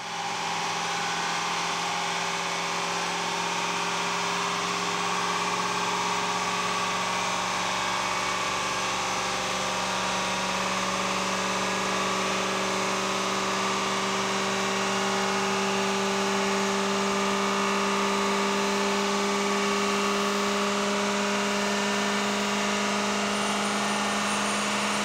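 Ford 6.0 Power Stroke diesel truck with a cracked head running hard on dyno rollers, a loud steady drone with a tone that rises slowly and holds, going on without a break.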